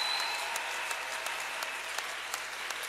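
A church congregation applauding at a Christian service, steady, dense clapping from many hands that carries on evenly throughout.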